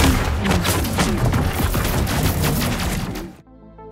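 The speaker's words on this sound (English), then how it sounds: "They seem to be doing remarkably well against the extremely heavy incoming weapons fire." Heavy weapons fire rattles through a combat scene in Elite Dangerous Odyssey, dense overlapping bursts of gunfire and booms, loud and continuous for over three seconds before cutting out abruptly.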